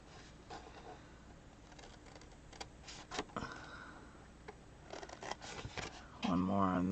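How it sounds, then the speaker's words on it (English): Paper card being cut with hand snips from the back side: a few sharp snipping clicks up close, with someone talking over them and a faint background hum. "I'm going to use my Snips. And I found that it's easier if I cut on the back side."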